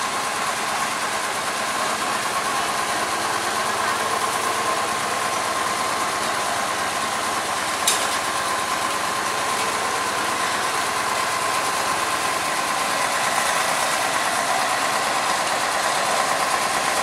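A D1 locomotive idles on a railway track beside a road, its engine giving a steady, distant rumbling drone with a continuous hum that persists throughout, with one brief sharp click partway.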